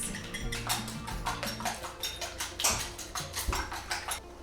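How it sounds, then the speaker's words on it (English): Eggs and egg yolks whisked in a bowl for a sourdough lava cake batter, a steady run of quick, close clinking strokes of metal against the bowl with no talking. "whisk up 2 full eggs and 3 egg yolks."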